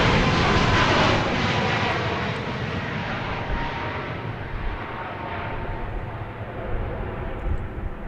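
Fixed-wing airliner taking off from Dallas Love Field on a winter morning, a loud broad engine roar that starts strongest and slowly fades as it climbs away, steady and continuous with a faint voice underneath.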